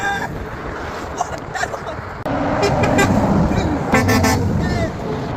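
Vehicle horns honk repeatedly on a roadway during a honking game, several short toots over traffic noise, the loudest burst coming late, with people talking and shouting over them.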